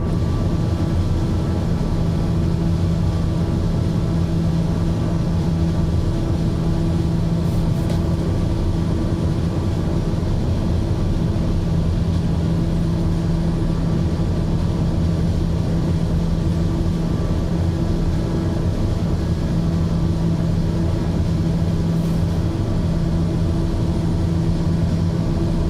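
A TBM-850 turboprop engine drones in a flight simulator, a constant steady hum with a low tonal whine that holds unbroken and alone throughout.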